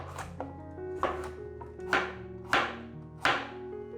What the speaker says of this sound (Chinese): 把地瓜削皮，地瓜切片